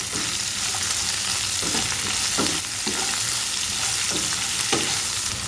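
Bitter gourd slices fry with a little salt in a pan, sizzling steadily up close while a spatula stirs and scrapes in repeated short strokes.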